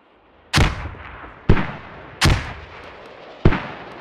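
Mortar rounds firing in the military shooter Squad: four loud, booming launches spaced about a second apart, each with a sharp attack and a short rumbling decay.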